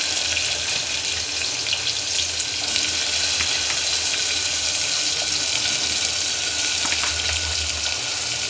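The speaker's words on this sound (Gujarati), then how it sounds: "ફટાફટ ડ્રાય જીરુંનો વઘાર કરી નાખીશું।" Dry cumin seeds sizzle in hot oil as a tempering for Gujarati masala bhakri and green chutney, giving a steady, loud crackling hiss that runs the whole time with no talk.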